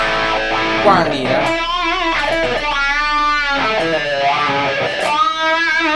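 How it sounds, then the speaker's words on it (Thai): Electric guitar through the wah effect of a Nux MG30 multi-effects unit, its tone swelling and dipping in repeated vowel-like arcs over a steady, fairly loud sustained note. "นี่คือเสียงวาล"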